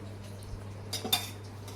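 Metal ponganalu pan set down on a stove, giving a couple of light clinks and clatters over a low steady kitchen hum.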